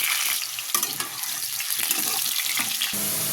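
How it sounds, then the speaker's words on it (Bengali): Potatoes frying in hot oil, a loud, dense hissing crackle that runs unbroken from start to finish, with no voices. "তেল গরম হয়ে গেছে, আলুটা ভেজে নেব।"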